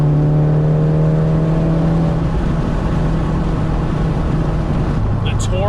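A Honda K24A four-cylinder engine holds a steady rev, then the note thins and settles lower, loud and close throughout.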